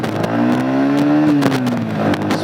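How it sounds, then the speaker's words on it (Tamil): A Yamaha XSR155 motorcycle engine pulls away in gear, its loud, close exhaust note rising in pitch, holding, then easing off slightly, with no voices over it. "ஸோ ஸ்டார்ட் பண்ணிவிட்டு கியர் போட்டாச்சு."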